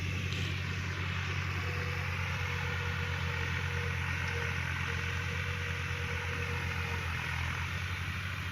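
Two tractors run in a village field, giving a steady, continuous engine drone with a low rumbling hum and no talk.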